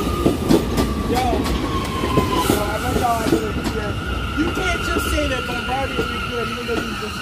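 A Bombardier train rolls past on rails with rumbling wheels, rhythmic clickety-clack and high squealing tones, loud and close, while people talk over it.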